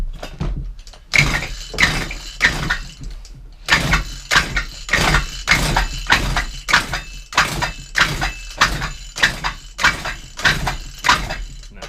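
A petrol strimmer engine on choke, close by, makes repeated short bursts of sound in an uneven rhythm, as if it keeps catching and stalling without settling into a steady run.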